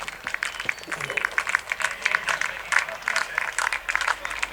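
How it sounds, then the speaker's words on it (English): Scattered hand clapping rings out at a midweek club cricket match as the players walk off the field. A voice talks over it near the start. "there's a good applause from them as they come in"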